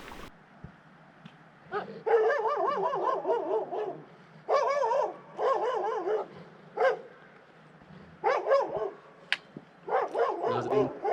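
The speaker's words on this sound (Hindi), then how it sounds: "पीछे कुत्तों की आवाज़ें बहुत ज़्यादा आना शुरू हो गई हैं" Two or three dogs bark in repeated bursts near a sheep herd on a trek to Katora Lake, loud and fairly close, with short whining yips and brief pauses between volleys.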